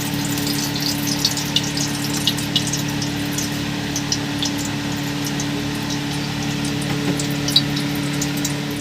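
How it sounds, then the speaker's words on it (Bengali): Paneer frying in a little hot salted oil in a wok gives a steady, continuous sizzle throughout, with faint scattered crackles and no voices. "আমি কড়াইয়ে অল্প একটু তেল দেবো, দিয়ে পনিরটা হালকা করে ভেজে নেবো"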